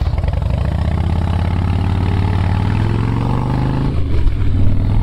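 2005 Harley-Davidson Softail Springer Classic motorcycle engine running close by with a loud, deep, steady rumble that swells slightly near the end as the revs climb.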